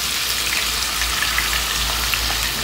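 Garlic and onion frying in a pan for a Brazilian chicken-and-rice gratin, giving a steady, close, loud sizzle and crackle that continues throughout with no talking.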